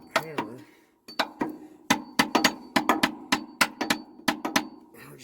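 A hammer tapping repeatedly to work a sleeper air bag loose on an International 9400i Eagle truck, a quick run of sharp metallic knocks, close and fairly loud, with a pause early on before the taps resume in a steady rhythm.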